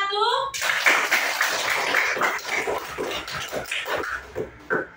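A classroom of students applauds group 1, a dense, loud burst of clapping that starts suddenly and carries on for several seconds while children's voices chatter through it.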